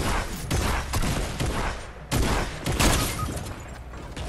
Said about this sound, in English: I just sniped him.